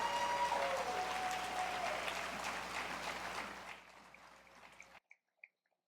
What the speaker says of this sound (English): Let's give our Neighborhood Transformation and Neighbor